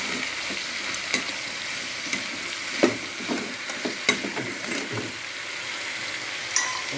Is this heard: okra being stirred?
yes